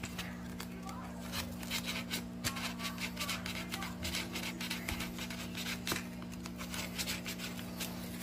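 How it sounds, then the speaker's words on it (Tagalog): Filing or sanding the inside of circuit breaker terminals for an air conditioner repair, a steady close rasping scrape repeating in short strokes over a constant electrical hum. "lihain mo siya ng konti sa loob para maganda yung contact"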